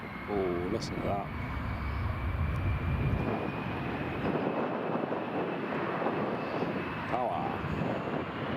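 TUI Airways airliner engines at Newcastle International Airport during Storm Kathleen, a loud sustained roar with a high whine running steadily across the clip, mixed with gusting wind and brief radio-like voice chirps.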